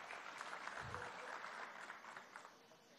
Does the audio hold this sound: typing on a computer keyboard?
no